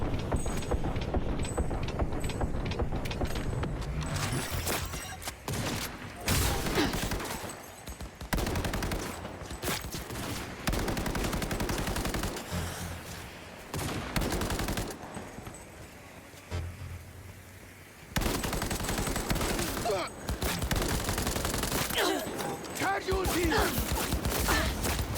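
A gun firing in the Cyberpunk 2077 video game, long bursts of rapid automatic shots in dense loud stretches broken by short pauses, with voices heard between the volleys.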